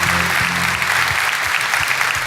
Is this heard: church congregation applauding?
yes